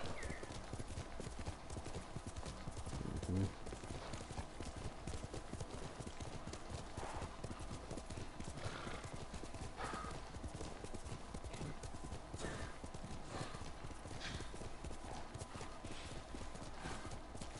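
In the video game Ghost of Tsushima, hooves pound in a fast, steady galloping rhythm for a long stretch, with a brief whinny early on and a faint voice speaking in the background.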